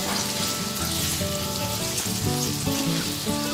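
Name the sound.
spices being stirred and roasted in a pan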